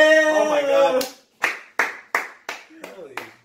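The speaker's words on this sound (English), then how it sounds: "Round of applause" About seven loud, separate hand claps ring out one after another, close by, right after a voice speaks.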